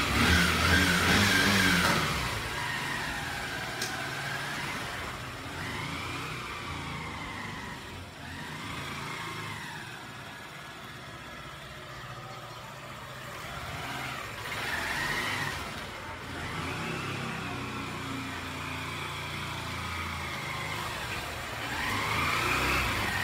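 Honda motorcycle engine on a test ride, a steady mid-pitched drone with repeated rising and falling revs as the rider accelerates and shifts, close and continuous with wind noise throughout.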